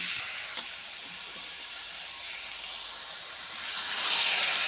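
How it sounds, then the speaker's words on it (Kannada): A soft, steady hiss of water sizzling as it is brought to a boil in a hot pan, growing a little louder near the end, with one brief click early on. "ನೀರಾಕಿ ಸ್ವಲ್ಪ ಕುದಿಸ್ಕೊಳ್ಳೋಣ"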